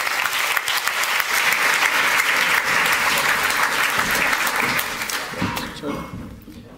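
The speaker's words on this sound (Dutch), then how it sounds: "En geef ze een hartelijk applaus." Warm audience applause greets three panel members taking their seats at a Dutch development-policy event, a loud, sustained round of clapping that thins and fades toward the end as a voice comes in.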